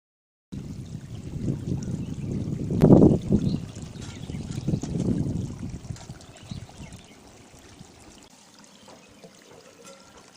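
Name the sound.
prawn and bottle gourd curry boiling in a pot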